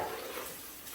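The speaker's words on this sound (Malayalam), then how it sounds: "നല്ലോണം കഴുകുക" Running tap water splashing over food being washed in a kitchen, a steady close rush of water with no talk.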